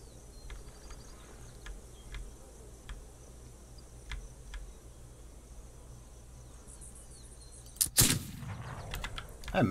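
Gunshots in the video game This Land Is My Land: a loud, close burst of gunfire near the end, following a stretch of faint ticking sounds and insect-like chirping from the game's ambience.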